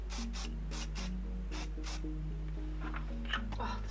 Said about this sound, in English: I'm gonna pop a little bit of hairspray in.